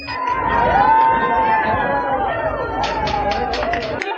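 A crowd cheers and shouts at the release of IRA prisoners, loud and sustained, with raised voices and chatter mixed through the noise.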